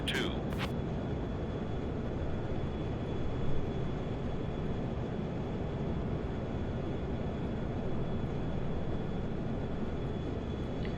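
A MiG-21 jet engine in the DCS flight simulator holds a steady, dense roar with a faint constant whine, and a couple of brief clicks come at the start.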